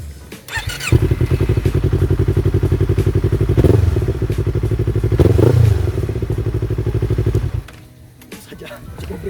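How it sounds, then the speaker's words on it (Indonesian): A 2015 Yamaha MT-25 motorcycle fitted with an Akrapovic full-system exhaust idling close by, a loud, rapid, throbbing burble with a brief rise in revs midway, then dropping off near the end. "knalpotnya ini dia sudah diganti oleh owner menjadi Akrapovic full system dan ya lumayan berisik"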